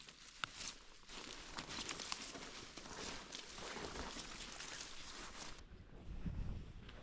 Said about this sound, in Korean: 6월의 날씨답지 않게 바람이 제법 사나운데요